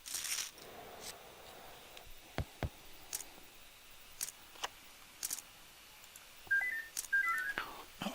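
A mobile phone rings faintly in a room during an online poker session, a few short electronic tone bursts near the end, mixed with scattered sharp clicks and taps, no talking.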